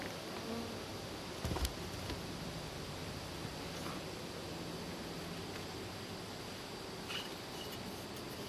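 Honeybees buzz faintly and steadily as they are returned to the hive after a varroa mite test, a soft continuous hum with a brief louder knock near the start and no voices.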